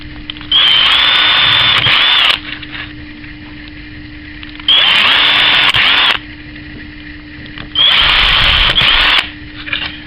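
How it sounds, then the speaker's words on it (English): A cordless drill runs through wood for a panel-pin joint in a school bug and bird box project, three loud whining bursts of about two seconds each separated by quiet pauses, close up with no talking. "with the cordless drill, straight through that"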